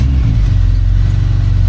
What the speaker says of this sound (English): Now if I start the motor,